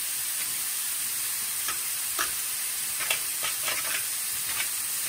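Ham cooking in a pan gives a steady, quiet sizzle with scattered small pops and crackles throughout, heard close with no talk.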